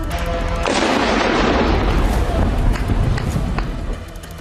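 Loud, dense rumbling blasts and crackling from Russian missile and drone strikes, a sustained wall of booming noise with sharp reports that swells and holds, faint voices mixed in.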